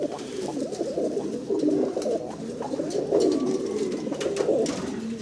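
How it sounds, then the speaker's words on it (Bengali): A pair of red Flazer pigeons coo repeatedly nearby, low and rolling phrases following one another steadily against faint background noise. "রেড কালারের চমৎকার একজোড়া ফ্লেজার কবুতর বাইরে এখানে দেখতে পারতেছি"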